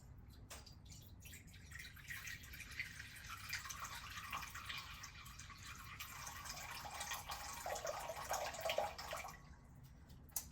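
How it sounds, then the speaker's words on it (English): Water pours into a bowl for mixing sourdough dough, a faint, steady trickling stream that builds over several seconds in a quiet kitchen before stopping. "So I'm gonna do 350 grams of water."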